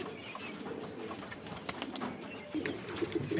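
Good-quality pigeons at a home loft coo in soft, low throaty bursts, several birds overlapping close by, with light background clatter and no talking.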